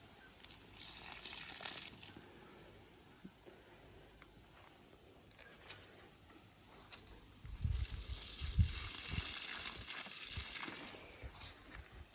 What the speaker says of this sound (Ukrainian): Під ось такі невеличкі рослинки виливаю приблизно 3-4 літри водички з добривом ярус.